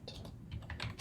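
Quick, close typing on a computer keyboard: a short burst of several crisp key clicks in an uneven rhythm, heard alone.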